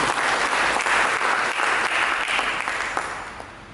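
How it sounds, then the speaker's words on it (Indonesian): A church congregation applauds, loud and dense, and the clapping fills the room for several seconds before easing off slightly toward the end. No voices come through. "Mari kita berikan tepuk tangan yang beri."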